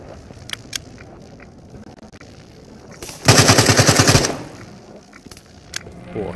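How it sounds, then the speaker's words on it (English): In the VR shooter Into The Radius on Meta Quest 2, a loud burst of rapid automatic gunfire lasts about a second midway through, with quieter isolated clicks and thuds before and after. "somebody just shot at me"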